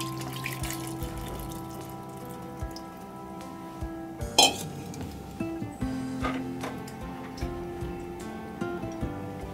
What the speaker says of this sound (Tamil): அந்த புளி தண்ணி வந்து ஊற்றுறேன்.